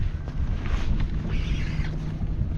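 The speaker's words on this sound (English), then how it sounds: "the wind is making it impossible to fish for me because the wind is going against the tide" Steady wind rushing over open water around a kayak on a fishing trip, a continuous broadband roar with buffeting on the microphone and faint lapping, no voices, wind blowing against the tide.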